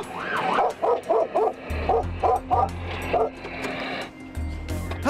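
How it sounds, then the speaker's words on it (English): A six-year-old Karelian Bear Dog barks in rapid clustered bursts of yips and bow-wows at a tagged problem bear in the Crowsnest woods, close and loud over a low steady rumble. "scaring this bear off is Coda, a 6-year-old Karelian Bear Dog."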